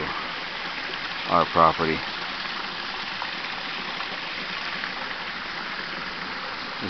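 Storm water carrying diesel fuel flows in a steady, rushing stream toward the Contoocook River, a continuous watery wash heard outdoors under a brief spoken remark.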